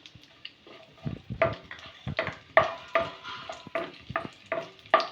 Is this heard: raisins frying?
yes